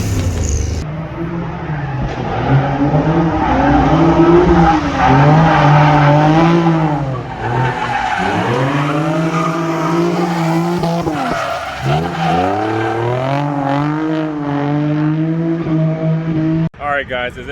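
A V8-swapped Mazda Miata's engine roars and revs continuously while tires squeal in long, wavering tones as it drifts, loud and close, with brief pitch dips between slides.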